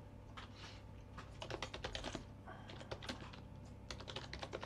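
A password being typed on a computer keyboard during an Arch Linux install, faint quick clusters of key taps with short pauses between bursts, no talking.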